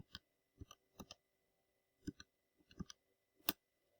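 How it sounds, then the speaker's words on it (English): Calculator keys are pressed in short groups of soft, close clicks with brief pauses between them, quiet in an otherwise silent room. "I just want to go ahead and type this into the calculator"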